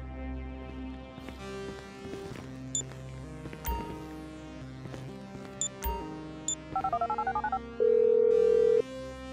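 Phone dialing in Grand Theft Auto V, a rapid string of beeping key tones followed by a sustained tone, set among game music and effects.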